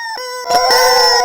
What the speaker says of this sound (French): Voici un jouet en caoutchouc pour chien qui couine.